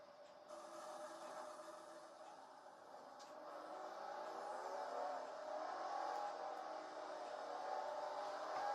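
Race car engines in the NASCAR Racing 2003 video game whir and rise gradually as the pack begins a rolling start, a steady faint engine drone building slightly over time, with no speech.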